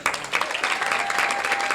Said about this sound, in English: let's give a rousing applause to Mayor Bliss.